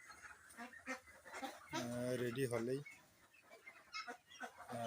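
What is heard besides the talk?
local ducks quacking on a duck farm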